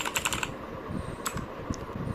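Keys on a Portronics Hydra 10 65% wireless mechanical keyboard click in a quick burst of several presses, then a couple of separate taps, crisp and close in a quiet room.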